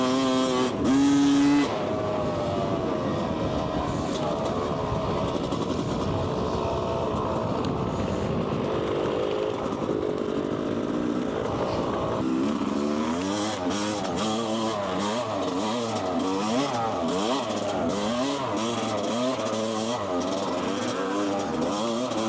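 An enduro motorcycle engine revved hard to warm it up, close and loud, its pitch rising and falling in repeated throttle blips over a steady idle throughout.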